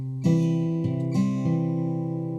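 Country blues fingerpicking on guitar with a syncopated alternating bass, a few clear plucked notes ringing close and alone, with a quick double-step in the rhythm.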